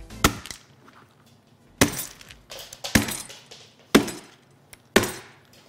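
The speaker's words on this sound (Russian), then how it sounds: "сейчас я вот этим смартфоном, друзья мои, вот этим идеальным смартфоном, этим ярким экраном разобью орех" A walnut struck repeatedly with the screen of a BQ 5022 Bond smartphone, giving five sharp, hard cracking impacts spaced about a second apart, close and loud.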